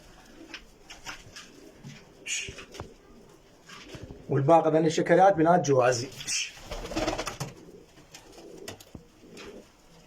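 Domestic pigeons in a breeder's loft give a short burst of soft, rolling coos mid-clip, close by, while someone talks over and around them.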